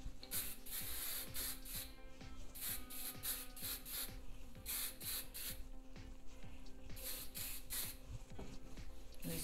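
Hair spray hisses onto hair in repeated short bursts during a boho chic hairstyling session, close and steady with no talking.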